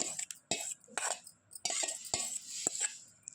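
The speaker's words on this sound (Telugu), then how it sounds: "ఒక్కసారి వేసుకొని మొత్తం కలుపుకుందాము" Ground gongura chutney ingredients being mixed together in a bowl, with a spoon scraping and clinking against the sides in a series of short, close strokes and brief pauses.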